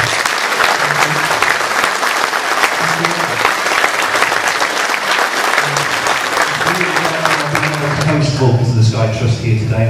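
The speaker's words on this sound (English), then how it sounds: "And I think a nice round of applause," Sustained audience applause at a lecture about the Avro Vulcan bomber XH558, loud and dense with many hands clapping steadily for several seconds, and a voice emerging over it near the end as the clapping fades.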